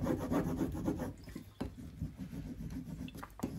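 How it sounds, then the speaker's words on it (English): A plastic scraper rubs down a rub-on transfer, giving soft, close, repeated scratchy strokes, quiet and continuous with brief pauses. "just use my plastic scraper to put that down at the bottom"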